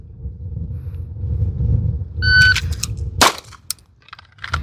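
A single sharp pistol shot cracks out after a draw from a 2011 handgun on a steel target range, preceded by low rumble and a few small clicks, then quieter clatter afterward.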